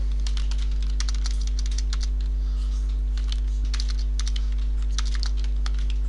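Computer keyboard typing while entering Urdu text in InPage, with steady clusters of light key clicks over a constant low electrical hum.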